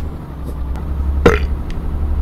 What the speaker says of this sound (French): je suis un camionneur, j'ai le droit de roter